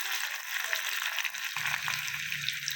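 About eight crushed garlic cloves drop into hot oil with mustard seeds and cumin for idli sambar, raising a bright, steady crackling sizzle that thickens midway as the garlic goes in, close and continuous.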